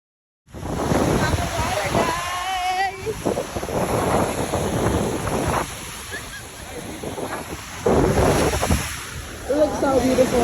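Ocean surf and wind noise at a Miami beach, waves washing in steadily and fairly close, with intermittent voices talking over the roar.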